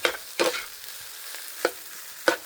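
Old-style Thai fried rice being stir-fried in a pan, with a low steady sizzle broken by four sharp scraping clatters of a spatula spaced irregularly, close and fairly loud, no talking.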